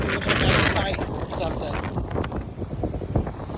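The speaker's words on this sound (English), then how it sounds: "So windy." Strong gusts of wind roar across the microphone outdoors among old trees, a loud, continuous rumbling buffet that rises and falls.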